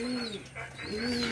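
Pigeons cooing softly in a loft, two drawn-out low coos separated by a short pause, fairly close and alone with no talk.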